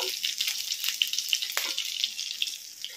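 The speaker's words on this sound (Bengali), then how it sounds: "তেল গরম হয়ে গেছে, তেলের মধ্যে ফোড়নে দিয়ে দিচ্ছি গোটা জিরে" Hot oil sizzles steadily in a pan where crab has just been fried, with extra oil added before whole cumin goes in; the frying hiss sounds close and even throughout, with faint clinks and no talk.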